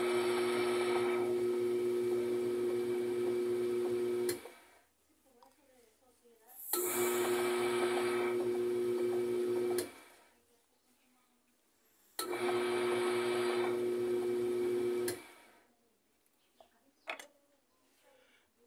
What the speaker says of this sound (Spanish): cuando hace el lavado, la transmisión está fija, no se mueve